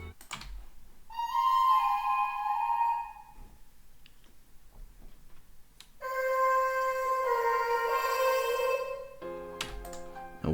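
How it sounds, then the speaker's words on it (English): An arcade-style synth lead from FL Studio, played dry with no effects, sounds two sustained bright, buzzy phrases with stepping pitches and a short, choppy burst at the end. "And the arcade, without the effects, it sounds like this."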